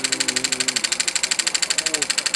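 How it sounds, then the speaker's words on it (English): Elmer's #8 Scotty model steam-style engine runs on about 5 PSI of air pressure, giving a fast, steady chuffing pulse with a slight vibration, close and even, while a voice talks briefly over it. "the engine's completed, got it running"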